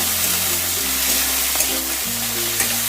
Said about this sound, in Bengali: দেখো পেঁয়াজটা একটু ভাজা হয়েছে